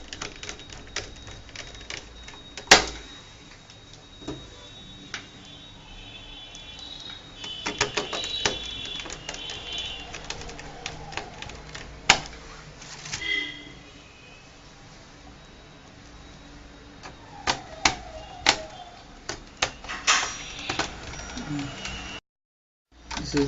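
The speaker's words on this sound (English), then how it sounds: "This is the 5th screw going in now." Screws being driven back into a Dell 15R laptop, with sharp irregular metallic clicks and ticks from a screwdriver, close up, separated by quiet handling noise and a short gap near the end.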